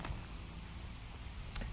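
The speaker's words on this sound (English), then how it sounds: "Maybe the rain will stop." Steady rain falls in the Skyrim video game, a continuous moderate hiss with a faint brief patter near the end, heard alone without talk.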